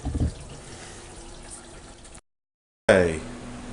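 Water running from a tap and dripping through an old leaking metal drain pipe under a sink, a steady wash of running water that cuts out briefly, then surges back loud and close.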